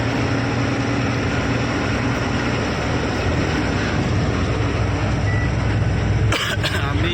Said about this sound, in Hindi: ये पालनपुर रेलवे स्टेशन।